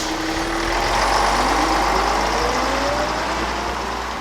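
A GO commuter bus engine runs steadily with a low idling drone and a faint rising whine, close and continuous with no talking.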